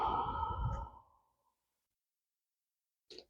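A single audible exhale during chair yoga, a close, soft breathy sigh fading out within about a second, followed by silence and a faint brief breath at the end.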